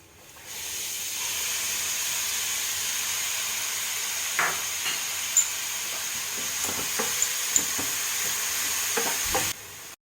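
Finely chopped onion cooking in a dry pan without oil, a steady soft sizzle and hiss throughout with occasional stirring clicks and scrapes near the end, no talk.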